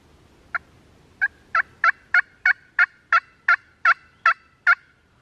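Wild turkeys gobble on public land in Indiana during spring hunting season, a steady series of about eleven loud, evenly spaced calls following one early gobble, heard from moderately close range with no voices.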